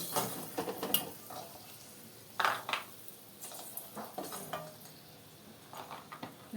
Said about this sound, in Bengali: দেখো আমার বড়িটা লাল লাল করে ভাজা হয়ে গেছে। এবারে তুলে নিচ্ছি।